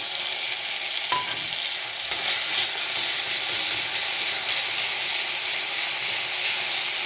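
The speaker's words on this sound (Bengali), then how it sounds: "এই যে জিরে আর আদাটা বেটে রেখেছি ওটা দিয়ে দিলাম" Dried chili frying in hot oil as ground cumin and ginger paste go into the pan, a steady loud sizzle and hiss throughout with a brief clink of a utensil near the start and no talk.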